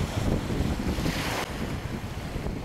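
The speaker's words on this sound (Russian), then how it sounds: "Свежие волны, свежий ветер сегодня." Wind buffets the microphone over the rush of sea waves, a dense, loud roar with no voices.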